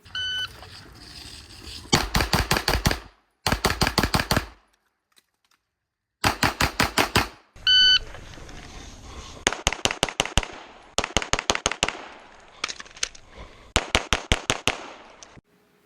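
Rapid pistol fire on a close-range stage at a USPSA shooting match, sharp loud cracks in quick bursts of several shots each, separated by short pauses and brief silences.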